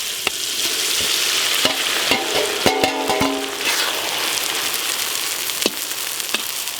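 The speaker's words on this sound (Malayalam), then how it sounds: "ഇനിയാണ് നമുക്ക് മെയിൻ സാധനം വറുത്തെടുക്കാനുള്ളത് തേങ്ങ" Grated coconut fries and is stirred in a pan for a Payyoli-style chicken roast, giving a steady close hiss and sizzle broken by sharp scraping clicks of the spoon against the pan.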